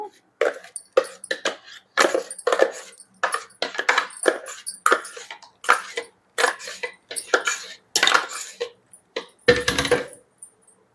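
A spoon scrapes and taps repeatedly against a mixer jar in short bursts, scraping mango paste into a bowl, metallic scratches and clinks close by, with one louder knock near the end.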